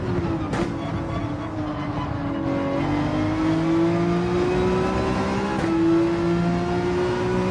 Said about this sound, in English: you really rev it out on the 911